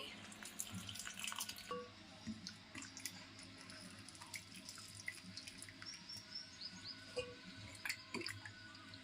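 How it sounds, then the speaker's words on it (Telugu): Bitter gourd pieces washed in salt water in a bowl: soft splashing and dripping water with intermittent clinks, faint and close, with a bird calling faintly in the background. "సాల్ట్ వేసి వాటర్లో కొంచెం సోక్ చేసి ఇట్లా వాష్ చేసి ఇట్లా గిన్నెలో తీసుకోవాలి"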